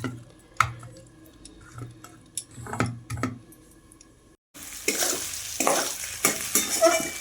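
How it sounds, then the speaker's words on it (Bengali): Boiled cabbage fries in the oil left from frying fish, first as scattered clicks and utensil taps, then a brief pause, then a louder, steady close-up sizzle with stirring. "এই যে মাছের তেলটা ভেজে নিচ্ছি বাঁধাকপিটা সিদ্ধ করে।"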